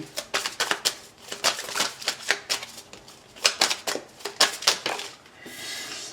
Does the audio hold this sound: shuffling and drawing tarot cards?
yes